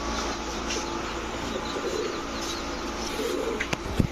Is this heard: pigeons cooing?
yes